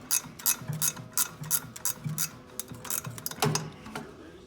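A hand ratchet clicks in quick repeated bursts, close and loud, while it backs a bolt out of the steering on a David Brown 990 tractor. Short pauses separate the bursts.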